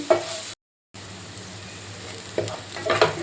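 Ginger garlic paste with a pinch of turmeric sizzles in a pan for paneer bhurji, a steady close frying hiss with stirring scrapes, broken by a brief dropout of silence.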